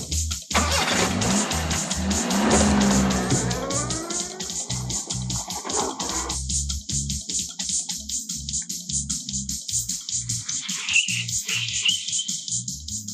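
A car accelerates hard and drives off, its engine revving loud and close through rising gears with a rhythmic pulsing drone that stays steady, and a brief high squeal near the end.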